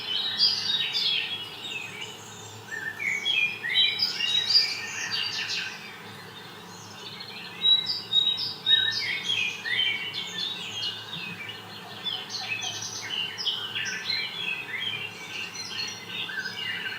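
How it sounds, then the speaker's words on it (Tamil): Many birds chirp and sing continuously in a zoo aviary, bright overlapping calls over a low steady background hum. "எவ்வளோ அழகாக சவுண்ட் கேட்குது பாருங்கள், பறவைகளோட சவுண்டு."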